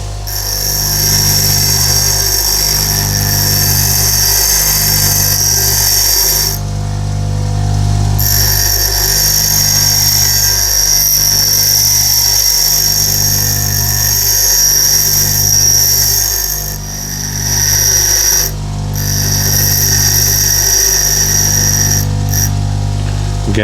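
Bench grinding wheel sharpening a steel drill bit freehand, a loud steady high whine and hiss with rhythmic periodic dips as the bit is repeatedly pressed and lifted, two brief pauses, no talk.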